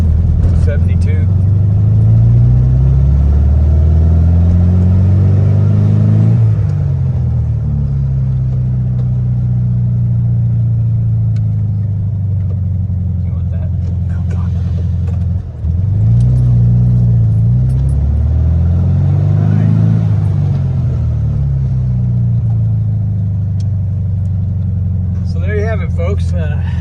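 A carbureted Volkswagen on a road test after an accelerator pump adjustment, its engine droning loud and close from inside as it climbs through repeated rising revs, dipping between gear changes and pulling up again.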